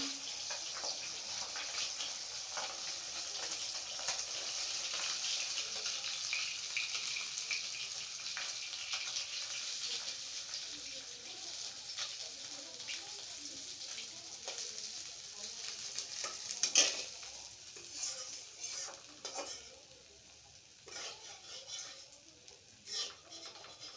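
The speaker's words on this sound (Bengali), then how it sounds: "এভাবে আমি সবগুলো মাছ ভেজে নেব" Pabda fish fry in oil in a pan with a steady soft sizzle, faint and close, broken late by a few scrapes and clinks of a utensil.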